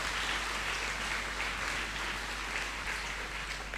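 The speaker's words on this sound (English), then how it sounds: "I think they both deserve a huge round of applause for excellent speeches." An audience at a school centenary investiture ceremony applauds after speeches, dense continuous clapping that holds steady and fills the hall without any speech over it.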